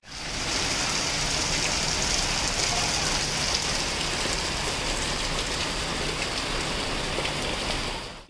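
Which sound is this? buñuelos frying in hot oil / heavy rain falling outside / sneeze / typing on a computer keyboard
heavy rain falling outside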